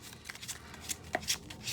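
A deck of Yu-Gi-Oh cards being shuffled by hand, giving soft papery riffles and flicks in short uneven bursts, close and quiet, with no talking.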